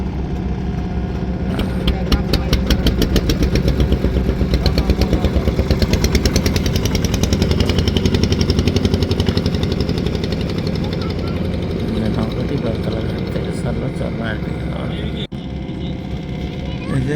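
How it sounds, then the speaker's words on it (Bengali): A trawler boat's engine thumps loudly and steadily as it comes from Charmonai ghat toward Beltola ferry ghat in Barishal, its rapid rhythmic pulsing holding for the whole stretch with voices faintly beneath it. "একটি ট্রলার দেখতেছেন এটি চরমনাই ঘাট থেকে এখন বেলতলা ঘাটের দিকে আসছে"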